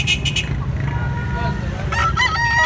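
A bullstag rooster crows from close by, a hoarse call rising near the end, while people talk over it at a Cebu fowl gathering.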